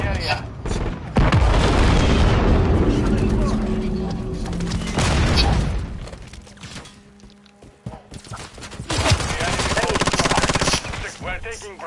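A stun grenade detonation and sustained automatic gunfire in Call of Duty, dense loud bursts of shooting and booms, then quieter stretches before more heavy firing, with game voices calling out over the action.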